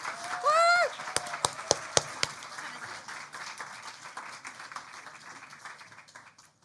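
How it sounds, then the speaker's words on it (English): Audience applause for a poet at a live poetry slam final, scattered sharp claps and a whoop at the start, then a dense, moderately loud patter of clapping that slowly fades over several seconds. "Round of applause, rapturous applause"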